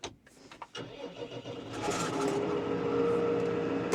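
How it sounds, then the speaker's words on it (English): A tractor engine on a farm, hitched for muck spreading with a Teagle Titan 9, cranks over, catches and settles into a loud, steady idle, close up with no talk. "And let's turn the engine on."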